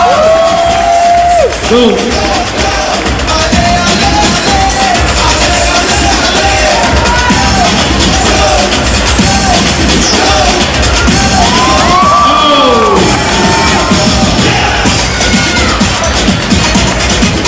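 A large New York crowd at a boxing event cheers and yells in a loud continuous roar with whoops rising above it, while an announcer's voice is heard now and then.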